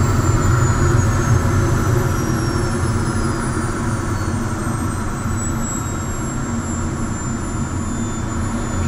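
Loud, steady roar and high whine of the small jet engine on an LS4 sailplane by M&D Flugzeugbau in level flight at about 200 km/h, heard from inside the cockpit as a continuous drone with a slowly falling tone.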